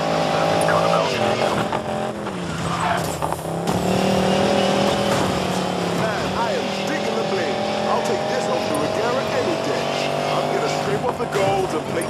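In the Need for Speed Payback racing game, a car engine roars continuously as tires squeal and skid through hard turns. Voices can be heard faintly under the loud driving noise.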